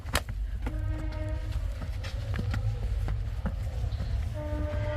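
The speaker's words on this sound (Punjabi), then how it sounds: "ਬਿਲਕੁਲ ਫਾਟਕ ਦੇ ਲਾਗੇ ਹੀ ਆ ਜਿਹੜਾ ਵਿਜਨ ਹੁੰਦਾ ਟ੍ਰੇਨਾਂ ਜਿਹੜੀਆਂ ਸਾਰੇ ਦਿਨ ਲੰਘਦੀਆਂ ਰਹਿੰਦੀਆਂ ਇੱਥੇ" A train rolls past close to a railway level crossing next to a rural cattle farm, a loud steady rumble with clanking, screeching wheel tones and a short horn-like blast, heard on its own without talk.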